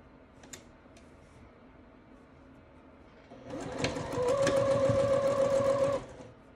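A sewing machine stitches rick rack trim onto a small pillow, starting after a quiet pause and running as a steady, close, loud mechanical whir for a few seconds before stopping.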